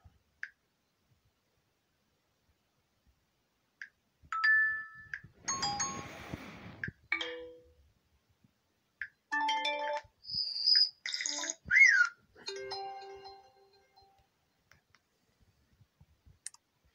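A string of short Huawei phone notification tones, separate bright chimes, clicks and little melodic blips with silent gaps between them, plus one softer watery swish, all clean and close with no talking.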